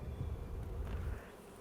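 Honeybees from a newly installed package buzz around an open hive as an empty hive body goes on top, a steady low drone at moderate level that thins out near the end, with no talking.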